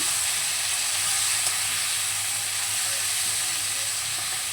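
Cauliflower pieces fry in a kadai with a little salt and turmeric, giving a steady, even sizzle and hiss of hot oil that stays constant throughout, with no voices.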